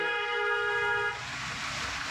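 Car horn honking in traffic during a driving lesson, one steady held toot lasting about a second, then fading into road and engine noise.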